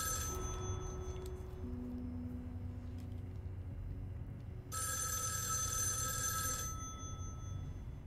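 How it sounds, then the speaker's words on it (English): An old-style telephone bell rings in the horror video game Erica, a faint ring early and then a loud, sustained ring for about two seconds, over a steady low ambient hum. "Let the phone ring."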